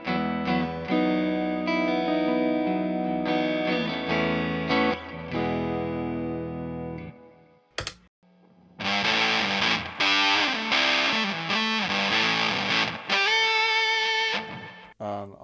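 A Partscaster electric guitar is played on its neck pickup, first a clean passage of ringing chords and notes, then after a brief pause a crunchier distorted passage with busier strumming, all close and loud.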